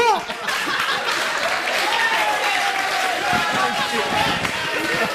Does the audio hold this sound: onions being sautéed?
no